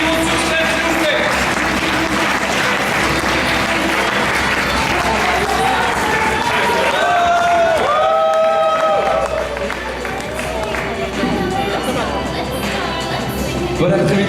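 An audience at a poetry slam applauding a poet coming on stage, a dense, loud wash of clapping and crowd noise that holds steady throughout, with voices and cheers mixed in.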